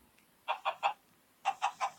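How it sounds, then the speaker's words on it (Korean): Chickens in the Minecraft video game cluck in two quick groups, three short clucks and then four, evenly spaced, clear and fairly close over a quiet background. "일단 저기에 닭이 있고 닭을 생성하도록 하겠습니다"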